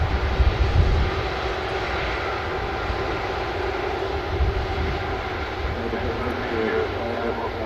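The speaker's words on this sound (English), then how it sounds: "Ah, no, one more plane." An airplane passes at Manchester Airport, its engine roar a broad, steady rumble that swells slightly and holds for several seconds, with a voice talking over it.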